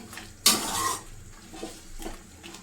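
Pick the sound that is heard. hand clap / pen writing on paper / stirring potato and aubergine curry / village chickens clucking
stirring potato and aubergine curry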